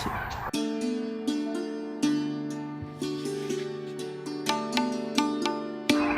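Turkeys on a turkey farm, giving repeated honking calls in an irregular rhythm, close and fairly loud, with no talking.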